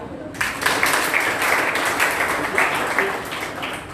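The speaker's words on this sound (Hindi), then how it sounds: "आप श्रोताओं के लिए भी तालियां बजाएं।" Audience at a Gandhi-themed college speech competition breaks into clapping after a brief quiet start, a full room of hands applauding steadily and fairly close for a few seconds.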